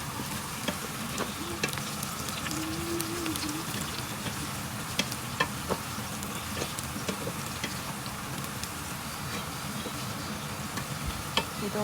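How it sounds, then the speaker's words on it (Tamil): Onions and curry leaves fry in a pan for chicken fried rice, a continuous crackling sizzle broken by frequent small ticks and scrapes as they are stirred, with no voices. "வதங்கி முடிய நாங்கள் வச்ச கருவேப்பிலையும் அதோடு சேர்த்துட்டு நல்லா கிண்டி விடுவோம்."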